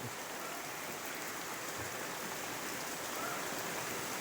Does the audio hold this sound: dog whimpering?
no